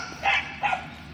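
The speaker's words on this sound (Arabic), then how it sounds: "او ما هما كلاب" Two quick dog barks close by, a short sharp pair in quick succession over quiet background noise.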